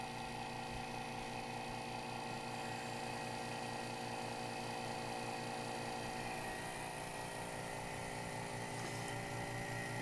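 A vacuum pump drawing suction while material is mixed hums and whirs steadily at an even, loud level, a constant mechanical drone with no talking.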